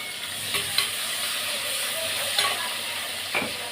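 Onions and curry leaves sizzle in a hot pan, a steady close frying hiss with a few sharp pops and crackles spread across the few seconds, no voices.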